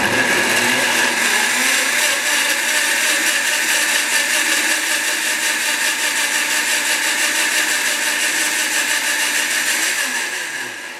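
A Blendtec blender runs a smoothie in a mason jar adapter, a loud steady whirring roar that holds for about eleven seconds and eases slightly near the end, with no talk over it.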